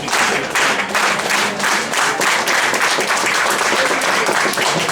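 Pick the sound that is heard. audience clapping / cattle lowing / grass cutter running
audience clapping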